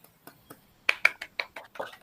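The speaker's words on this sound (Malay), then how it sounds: "Beri tepukan untuk Jena" A few scattered claps in a primary school Malay-language classroom for a pupil named Jena: about a dozen sharp, uneven hand claps, close and fairly quiet, with no voices over them.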